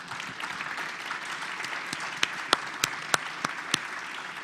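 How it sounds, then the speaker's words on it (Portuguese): An audience at a textile industry lecture gives a round of applause. The clapping is soft and steady, with a few sharper individual claps standing out near the end. "Eu queria, nesse momento, pedir uma salva de palmas"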